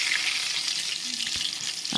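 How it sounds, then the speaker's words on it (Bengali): Eggplant slices fry in a pan of hot oil, giving a steady, close sizzling hiss that runs unbroken from start to finish with no voices. "এরপর হচ্ছে বেগুনটা আমি ভেজে নিচ্ছি"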